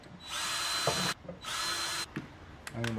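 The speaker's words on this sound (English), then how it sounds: "And drill our holes." Power drill boring holes in a Jeep WJ vehicle frame during a 3-link suspension install, two long loud bursts of high-pitched whining drilling separated by brief pauses, then a short clank of metal at the end.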